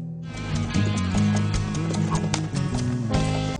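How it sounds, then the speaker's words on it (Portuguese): A mare neighs while being broken in, with hooves clip-clopping throughout under a dense, loud background of music or crowd sound. "Tá gostando de ver Jesuíno domando a égua"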